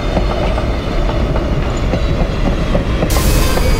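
A passenger train in the video game Passenger Train Simulator runs along the rails, a loud steady rumble with rhythmic clickety-clack of wheels over track joints and no talk.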